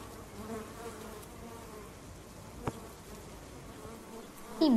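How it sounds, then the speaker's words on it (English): Honeybees in flight, a faint, steady buzzing hum from their wings, with a brief click partway through and a louder noise at the very end. "Honeybees are fabulous flyers."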